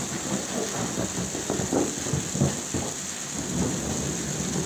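A soft thunderstorm over Kharkov, Ukraine: a low, distant thunder rumble rolls under steady rain hiss, with no one speaking.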